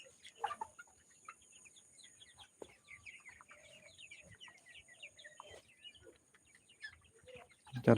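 Kalabat chickens on a farm, soft scattered clucks and chirps from several birds at a moderate distance, quiet with a faint steady electrical hum and occasional knocks.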